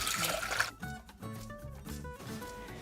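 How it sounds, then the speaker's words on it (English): Water pours into a saucepan in the kitchen: a splashy rush at first, then gurgling and trickling notes as it settles, close and moderately loud. "We're going to place 5 cups of water into a saucepan."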